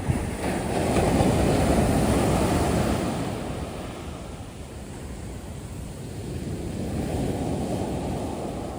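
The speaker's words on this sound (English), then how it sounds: "That's me dodging the waves as it tried to give me a high five" Ocean waves wash in at Bang Tao beach in Phuket, Thailand, a close, continuous roar of surf that swells, eases and builds again.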